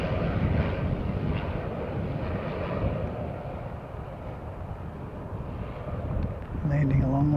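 A Qantas Origin airliner comes in to land, its jet engines a steady distant roar that swells slightly near the end.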